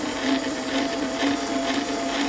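A Dapol 08 model locomotive runs at full speed, a steady, close whirring motor drone with a constant high-pitched hum that holds at the same level throughout.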